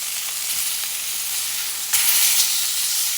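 A tri-tip steak, just flipped, sizzles steadily and loudly in a hot pan, and the hiss swells briefly partway through; no one speaks.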